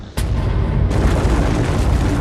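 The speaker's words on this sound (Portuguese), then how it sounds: "quando acontece fazem kabum! E explodem em 1000 pedaços" Cosmic star explosion effect: a sharp loud boom at the start, followed by a sustained, dense roaring rumble that swells and continues steadily to the end, with no speech.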